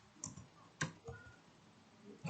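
A few quiet, scattered clicks of keys being typed on a computer keyboard, close and isolated with no talk.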